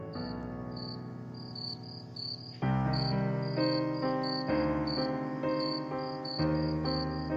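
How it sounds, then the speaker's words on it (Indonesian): Crickets chirp outside a dormitory on a cold night, a steady high pulsing trill layered over a louder, sustained tonal backdrop that swells partway through. "suara jangkrik di luar asrama terdengar semakin nyaring"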